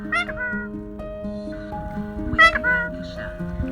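A domestic cat meows twice, close and clear, with a lower musical background running underneath throughout.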